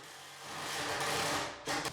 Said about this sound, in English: Before driving the screws, I pre-drill and countersink to avoid wood splitting and cracking, then driving the screws directly through the shims.